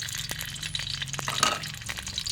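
Oil crackles and spatters steadily as curry paste fries in a hot pan, with occasional clinks of a utensil against the metal.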